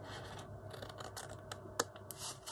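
Scissors snipping paper for a Christmas envelope, with several short close cuts and scratchy paper handling over a brief moment.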